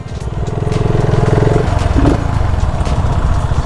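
BSA motorcycle engine rapping loudly up close as it accelerates, a dense rhythmic exhaust pulse that builds and then eases off under braking, with no talk over it.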